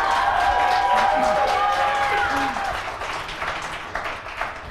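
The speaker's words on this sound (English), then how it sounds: "An applause for Obamacare." An audience at a talk-show interview applauds, a continuous patter of clapping with scattered cheers and a voice over it, fading gradually toward the end.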